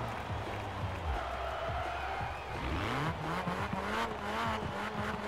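Loud, continuous engine roar of an RS race car in Forza Horizon 4, revving and shifting with rising and falling pitch sweeps at the start of a race, tire squeal and crowd noise in the background.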